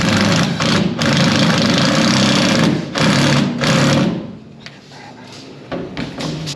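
A power driver sinking screws into pre-drilled pilot holes while installing a Maxxfan roof vent, several loud whirring bursts of a few seconds each with short pauses, then quieter handling noises.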